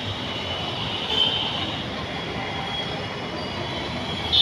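A metro train at Mohan Nagar metro station in Ghaziabad runs past with a continuous rumble and faint high wheel squeal on the rails, steady and fairly close, with no voices.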